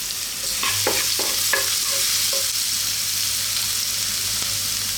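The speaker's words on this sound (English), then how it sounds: "we're going to start off by dropping in ginger, garlic, chopped garlic," Ginger and chopped garlic frying in hot oil while a utensil stirs them, a steady close sizzle with a few scraping strokes early on and no talk.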